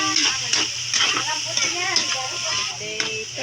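Pansit noodles with squid balls and carrot are stirred and tossed in a sizzling pan, with repeated scraping strokes over steady frying; a person talks throughout.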